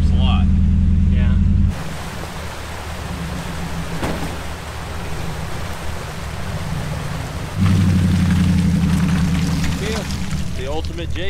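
A Jeep JK rock crawler on bigger, softer tires works over rough terrain, its loud low engine drone dropping back partway through and then surging again, with rattling and scraping. Voices talk over the engine.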